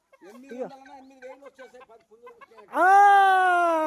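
Chatter and a brief clucking call at a country chicken farm, then a loud, sustained rooster crow rising up close near the end.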